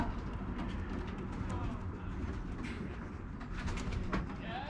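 Young Belgian racing pigeons, weaned in late February, around a loft, cooing and fluttering continuously at close range over a steady busy background.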